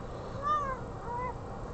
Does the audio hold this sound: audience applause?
no